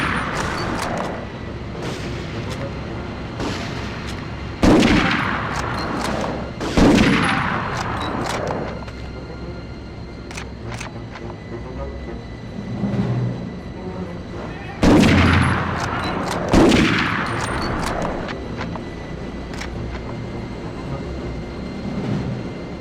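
Gunshots ring out in the Medal of Honor video game, arriving as loud, echoing reports in spaced pairs and clusters over a constant rumbling background, with fainter shots scattered between them.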